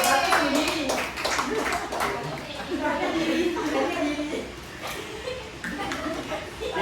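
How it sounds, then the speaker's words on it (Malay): A classroom of children clapping for themselves, a burst of uneven applause mixed with chatter and a teacher's voice nearby. "beri tepukan untuk diri sendiri"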